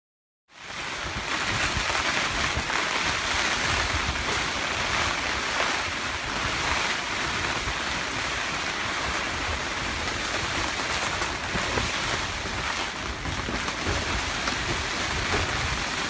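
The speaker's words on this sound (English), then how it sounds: "it was very, very stormy and lasted quite a while" Steady, loud roar of wind and crashing surf with rain-like hiss during a storm at Oban in the West Highlands, continuous and unbroken throughout, no voices.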